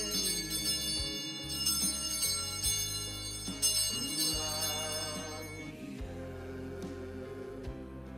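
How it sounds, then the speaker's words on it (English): Altar bell rung at the consecration during Mass, bright multi-toned chimes struck in a few clustered rings that decay slowly in a quiet church, fairly faint and alone. "The candle bearer then rings the bell 3 times."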